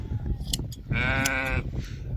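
A sheep being sheared gives a loud, wavering bleat up close, over a low rumbling background and a few clicks.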